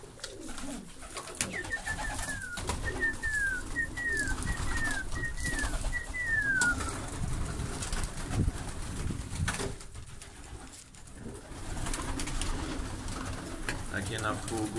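Pigeons cooing inside a pigeon loft, a series of soft rolling coos repeating over the first several seconds, with occasional rustling and movement in the background.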